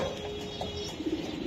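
Racing pigeons of a club loft coo softly in a brief, close, low murmur over steady background noise.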